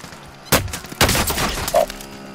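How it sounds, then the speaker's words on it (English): Gunfire from a video game cracks out in a few loud, close bursts over a couple of seconds, with a brief electronic tone near the end. "I'm being shot at."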